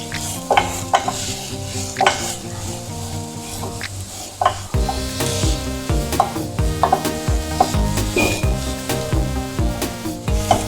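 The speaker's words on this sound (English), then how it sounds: "So just like sauteing the onions." Onions stirred and sautéing gently in a pan for South African chakalaka, with a steady sizzle under repeated scraping strokes of a utensil against the pan, close and fairly loud, no talking.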